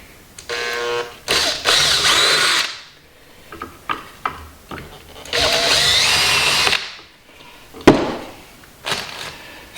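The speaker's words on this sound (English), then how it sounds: "Okay, so that's drilled" A power drill whines in several bursts, spinning up and cutting off repeatedly while drilling into the end of a slot for router dust extraction, with short clicks and knocks between runs close by.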